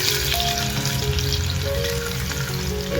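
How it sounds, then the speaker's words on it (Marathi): Garlic sautés in hot oil tempered with mustard seeds and cumin for a village-style chilachi bhaji, giving a steady, close, continuous sizzle with faint stirring and no talk. "लसूण आपण तांबूस कलरवर येईपर्यंत परतून घेऊया."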